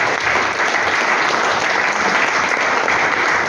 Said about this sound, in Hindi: आप सभी इसीलिए जोरदार ताली दे दीजिए जिन्होंने आपको बुलाया